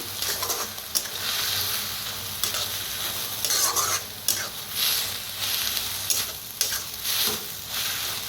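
Fenugreek leaves fry in a pan as a spatula stirs them, producing a close, continuous sizzle punctuated by repeated scraping and tossing strokes.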